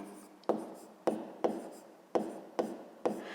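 A pen or pencil writes numbers while a fifth-grade math exercise is being solved, producing six quick scratching strokes with short pauses between them, close up and fairly quiet.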